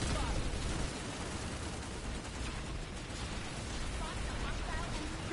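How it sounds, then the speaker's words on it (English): Grenade blasts in the Planetside 2 shooter, dense explosive bursts and crackling gunfire sustained throughout a chaotic battle, with game voices calling out over the din. "Throwing a grenade."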